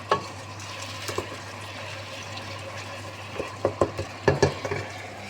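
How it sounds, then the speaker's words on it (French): A spoon stirring food in a pot during a quick home recipe, with soft scraping and a few sharp clinks against the pot toward the end, close by and alone. "Il faut une cuillère, voilà. Alors on va touiller"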